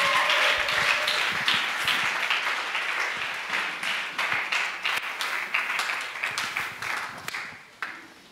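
A church congregation applauding for a pastor, dense and continuous clapping that fills the room at a lively steady pace and thins out toward the end, no speech.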